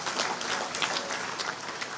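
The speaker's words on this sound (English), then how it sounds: "I think he deserves a round of applause for that." Audience applause at a national council meeting on innovation, science and technology, a steady wash of many hands clapping together, moderately loud and continuous throughout without any talk.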